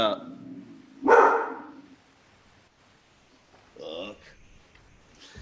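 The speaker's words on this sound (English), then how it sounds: "I shouldn't have brought the dog up here" A nearby dog lets out two short barking bursts indoors, one loud and one softer a few seconds later, amid a quiet conversation.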